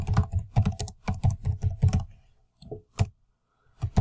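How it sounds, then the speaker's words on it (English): Typing on a computer keyboard comes in rapid bursts of close, sharp key clicks, then a pause, a few scattered taps and a final keystroke, and no one speaks. "my typing is good"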